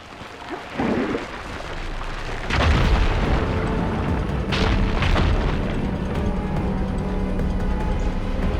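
A fire gleam explodes to clear rubble in Horizon Forbidden West: a loud booming blast hits after a brief pop, followed by a second burst and a long rumbling, crackling tail of falling debris.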